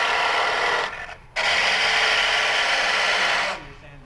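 Wood lathe turning a thin elm burl as the gouge takes big cuts, a loud steady rushing scrape that stops briefly and then resumes before fading out near the end.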